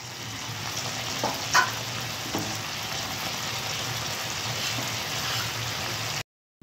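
Spices with whole dried red chillies sizzle in hot oil for a bitter gourd curry, a steady close crackle broken by a few stirring clinks before cutting to silence.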